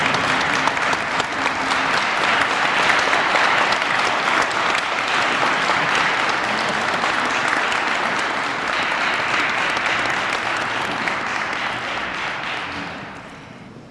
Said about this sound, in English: please join me in giving a thunderous round of applause to Councilmember Vivian H. Burke